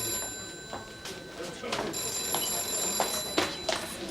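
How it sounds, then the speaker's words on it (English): A landline telephone rings in repeated bursts in a busy police station office, moderately close, with people talking over and between the rings. "Is no one capable of answering a phone round here?"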